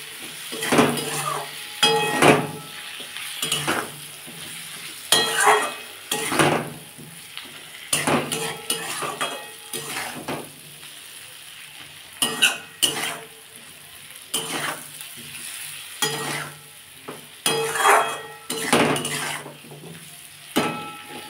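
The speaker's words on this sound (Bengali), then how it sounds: "1 চামচের কম লঙ্কার গুঁড়ো, পরিমাণ মতো নুন, সব দিয়ে এটা বন্ধুরা ভালো করে কষে নেবো।" A spice mix with chili powder and salt sizzles in a pan while a utensil stirs and scrapes it in repeated bursts, with clinks of metal on the pot, for a Bengali parshe fish curry with capsicum and potato.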